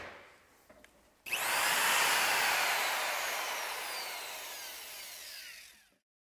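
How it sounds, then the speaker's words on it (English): A power drill with a 3/8 bit bores a hole in one loud, steady whine lasting nearly five seconds, then winds down and stops. A few faint clicks come before it starts. "we're going to move on and drill the marked hole location with a 3/8 drill bit"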